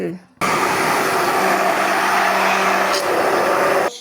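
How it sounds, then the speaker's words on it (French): A kitchen blender runs steadily at high speed, mixing ingredients for soft, spongy bread rolls, a loud continuous whir that starts abruptly and stops near the end. "Mixer pour avoir un beau mélange crémeux, vous allez voir."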